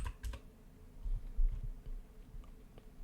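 Typing on a computer keyboard: a run of light, irregular key clicks at close range, with a couple of louder taps, heard alone with no talking.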